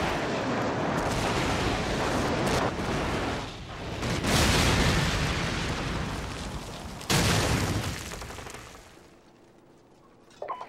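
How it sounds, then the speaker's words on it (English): Airstrike explosions in Call of Duty 4 boom and rumble in a long, heavy barrage, with several loud blasts standing out from a continuous roar before it fades toward quiet at the end. "Friendly airstrike on the way."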